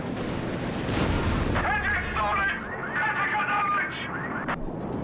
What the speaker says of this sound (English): It's the rocket launcher, the RAF is coming in.